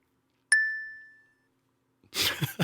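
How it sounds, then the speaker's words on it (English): Single metallic bell strike rings out clearly and decays over about a second in an otherwise quiet room, followed by a burst of people talking. "The fucking bell's killing me."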